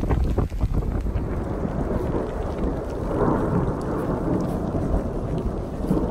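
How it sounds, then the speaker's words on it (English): A Wyoming thunderstorm rolls on with steady rain and a long, low thunder rumble, with some wind gusting across the microphone in an outdoor setting among dead trees. "This is our first thunderstorm in Wyoming."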